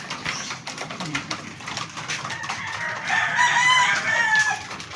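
A White Kelso hen calls in a backyard while about to lay an egg, repeated loud clucking and cackling at close range, over other fowl noise and a high-pitched call toward the end.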